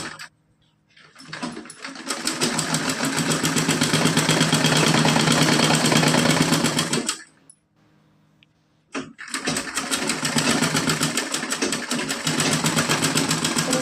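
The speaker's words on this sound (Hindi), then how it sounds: "इस तरह से सीधी सिलाई लगानी है।" A sewing machine runs a straight seam on a small cotton doll dress, whirring loudly and continuously for several seconds, stopping for a short pause, then starting again, with no speech.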